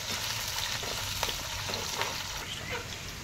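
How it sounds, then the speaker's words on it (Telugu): Green chillies and curry leaves fry in hot oil, giving a continuous, fairly quiet sizzle with small crackles and pops scattered through it. No one speaks. "ఇవి నూనెలో మంచిగా ఫ్రై చేసుకోవాలన్నమాట."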